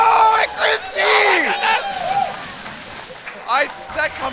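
A loud crowd roars and screams with excitement at a Dragon Ball FighterZ grand final tournament, cheering in surges with whoops and scattered clapping, overlapped by voices.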